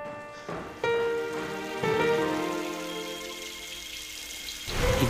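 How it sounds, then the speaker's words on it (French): Steady hiss of falling rain fills the scene, with tonal, musical hum layered over it and a louder wash of rain rising at the end. "Il pleut."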